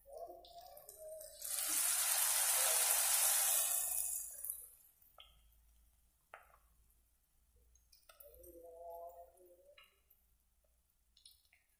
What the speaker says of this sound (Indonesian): jadi tahunya kita goreng.